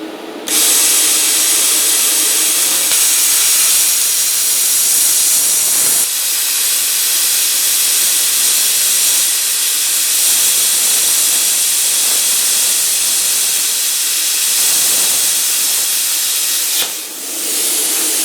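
Cut-40 budget plasma cutter slicing through stainless steel, a steady, loud hissing roar that runs for many seconds, briefly breaking off and restarting, with faint crackle underneath.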